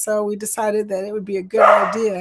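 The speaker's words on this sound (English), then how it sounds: "Excuse the barking in the background." A dog barks and yips indoors in the background, several short sharp barks under someone talking close to the microphone.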